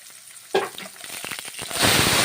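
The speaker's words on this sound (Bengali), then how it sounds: "পেঁপেগুলো ছেড়ে দিচ্ছি গরম তেলে। তেল গরম হয়ে গেছে বেশ ভালো, সবজিগুলো ছেড়ে দিচ্ছি।" Papaya pieces and mixed vegetables drop into hot oil with a sudden loud burst, then a steady crackling sizzle that builds and thickens into a dense, close frying hiss.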